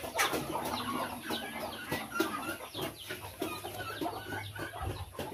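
A hen clucks steadily close by, joined by the thin peeps of a single newly hatched chick, with a few faint rustles in the coop.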